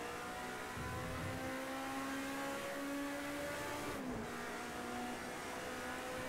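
A race car engine drones steadily in a racing video game, holding a high pitch before a brief dip as a gear shift lands, then the engine climbs again.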